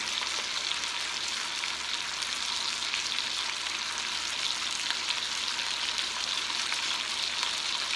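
Food frying in hot oil, a dense, steady crackling sizzle that stays loud and close without pause from start to finish.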